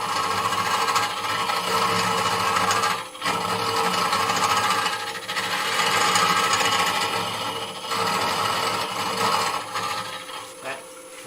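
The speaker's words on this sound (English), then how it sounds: "the idea is now that we turn the lathe on and we start hollowing, cutting backwards." A wood lathe runs steadily while a tool hollows out the spinning wood, giving a continuous rough scraping and rubbing drone with a brief dip near the middle, loud and close, with no talk.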